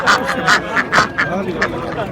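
Ducks quack in short bursts close up at a poultry market in Kırıkkale, Turkey, a handful of loud honking calls spaced irregularly, while a voice talks faintly underneath.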